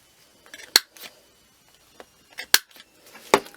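A corner punch rounding off the corner of paper, giving three sharp, close clicks spaced apart with faint handling rustles between them in a quiet room.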